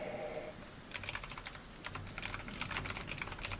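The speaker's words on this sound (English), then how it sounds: "And you hear me furiously type." Fast, furious typing on a computer keyboard, a dense patter of close clicks and clacks after a brief quieter moment, continuing without pause.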